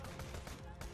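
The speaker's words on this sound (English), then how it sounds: "And who's shooting me?" Gunfire in Borderlands 2 during a firefight on Hyperion. The clip is brief and faint, with a rapid rattle of shots running through a dense burst of noise.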